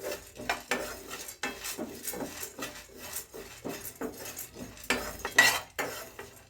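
Roasted gram dal is stirred in a pan with a spoon, giving soft scrapes and light clinks in an uneven rhythm, close and fairly quiet.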